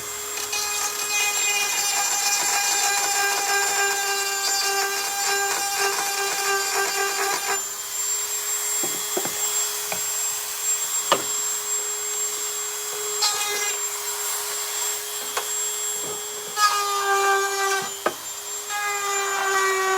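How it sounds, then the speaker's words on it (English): A power tool grinds dried glue off a wooden desk, whining loudly and steadily at close range for most of the time, with its pitch and load shifting and several brief scraping bursts as it bites into the glue. "I need a little bit stronger grinding ability right there. There is a big old glob of glue."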